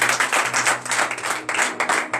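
A church congregation at a morning prayer service in Benin claps and cheers in acclamation, a loud dense burst of many hands with a low steady hum beneath.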